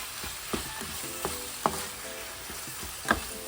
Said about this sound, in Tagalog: iniligay ko na yung giniling. Lulutuin ko lang siya ng mabuti